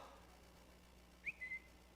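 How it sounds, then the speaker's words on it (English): A text message notification whistle: a short rising chirp followed by a brief flat tone, sounding once in a quiet room with a low steady hum behind it. "That text message whistle, it happens, and it's a distraction."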